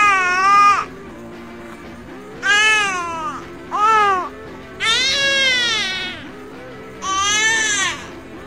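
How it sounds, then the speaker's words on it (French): A baby makes a sleepy "oh" sound: five drawn-out, wavering cries separated by short quiet gaps, loud and close. "Un autre son qui est utilisé par les bébés est « oh » qui signifie que le bébé a sommeil."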